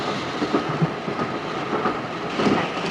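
Passenger train running on rails, a steady broadband rumble of wheels and carriage noise with faint rhythmic clatter throughout, moderately loud and without speech.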